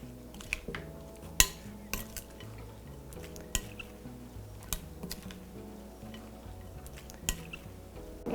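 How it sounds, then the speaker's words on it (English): Pico de gallo ingredients with a little salt get tossed together in a bowl, giving soft wet clicks and taps of a utensil at an irregular rhythm, close and fairly quiet, with no talk. "And toss the ingredients together."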